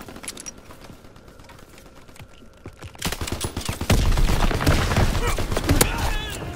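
Rapid volleys of De Lisle sniper rifle fire in a video game, loud dense cracks that grow heavier in the second half, with a player talking over them.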